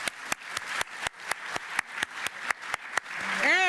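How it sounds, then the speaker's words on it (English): An audience at a school district recognition event applauds, heard as a series of crisp, evenly spaced claps with a slight echo, fading as a tone rises at the end. "Let's give them another round of applause"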